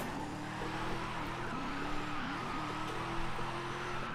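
Drift car tires squealing in the Forza Horizon 5 racing game, a steady engine drone with sustained wavering tire screech running throughout, no talking.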